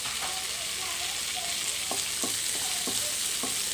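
Finely chopped onion, ginger and garlic sauté in a pan for a squid curry, giving a constant loud sizzle with occasional light clicks from stirring.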